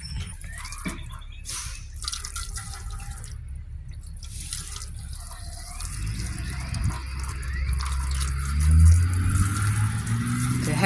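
Water sprays and splashes onto a DISH 500 satellite dish during cleaning, a steady hiss with dripping that grows louder toward the end.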